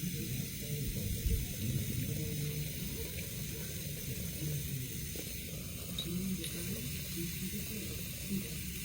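Trumpet parts are rinsed under running water after a soap scrub, with a steady hiss of flowing water close by and a faint voice in the background.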